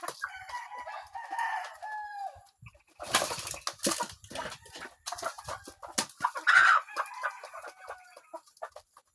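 Egg-laying hens on a Filipino farm clucking and cackling close by, in a busy run of overlapping calls with brief pauses, sometimes rising into louder squawks, with no talk over them.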